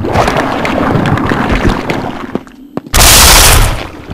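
Acid rounds fired at a Leechman in Resident Evil Zero: a couple of sharp game gunshots over a steady ambient bed, then a loud bright burst of hissing, sizzling spray that holds for about a second before fading.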